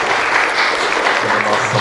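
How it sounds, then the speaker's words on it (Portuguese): A round of applause at a Catholic diocesan missionary gathering, dense steady clapping from an indoor crowd filling the whole short moment, loud and close. "Uma salva de palmas"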